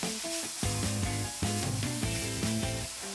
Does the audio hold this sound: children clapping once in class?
no